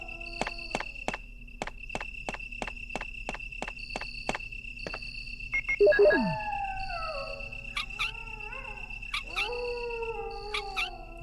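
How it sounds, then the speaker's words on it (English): Dogs howling in the PlayStation 1 game Resident Evil: Director's Cut, with a long rising and falling howl in the middle, other shorter cries after it, and rhythmic footsteps and tones earlier, all over a low game hum. "it's better if you just kill the first 3 dogs right here"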